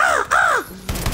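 Two drawn-out crow caws from a video game, loud and close, with a short gap between them, followed by a brief lower game noise.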